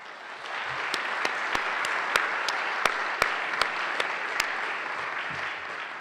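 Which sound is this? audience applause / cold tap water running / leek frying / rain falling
audience applause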